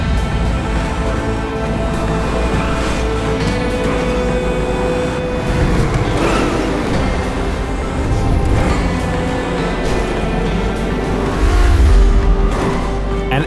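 Race cars roar through a video game circuit race past Vinewood Studios, their engines droning loudly and continuously with rising revs and a brief swell near the end, with no talk over them.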